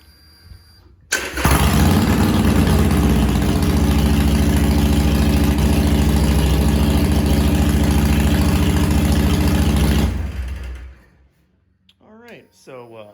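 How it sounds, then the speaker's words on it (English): Harley-Davidson Sportster with a new custom exhaust fires up and settles into a loud, steady, deep idle for about nine seconds, then shuts off, followed by a brief voice. "Let's take a listen on what this new exhaust sounds like."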